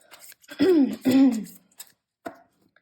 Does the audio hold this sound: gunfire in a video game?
no